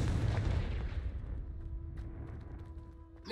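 A Confringo fire spell erupts in Hogwarts Legacy, a heavy explosive boom at the start that rolls off into a fading rumble with a faint lingering tone.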